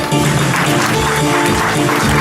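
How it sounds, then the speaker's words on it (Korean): Applause from attendees at a Korean alumni association's annual general meeting, a dense steady wash of clapping filling the room for a couple of seconds, with a voice or music faintly underneath. "박수 좀 부탁드리겠습니다"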